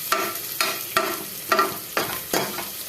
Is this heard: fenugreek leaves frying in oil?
yes